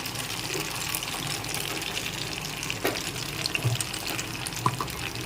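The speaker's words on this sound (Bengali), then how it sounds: "এর মধ্যে জল দিয়েছি সামান্য পরিমাণ" Water runs steadily into a bowl of spice paste for a shahi paneer gravy, a continuous close gush and trickle with faint kitchen clatter and no talk.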